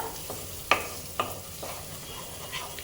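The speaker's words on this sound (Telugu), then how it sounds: "ఇప్పుడు ఇందులో కూడా పచ్చివాసన అంతా పోయే వరకు మనము ఇట్లా మీడియం ఫ్లేమ్ మీద చక్కగా వేయించేసుకోవాలన్నమాట" Ginger garlic paste with chopped coriander frying in a pan over a medium flame for a spicy tomato egg curry, a soft steady sizzle broken by a few sharp scraping stirs, close and fairly quiet.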